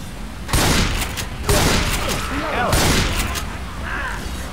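Loud shotgun blasts from the video game Left 4 Dead 2 go off three times at uneven intervals, each a sharp burst trailing into game noise, with faint voice-like chatter between shots.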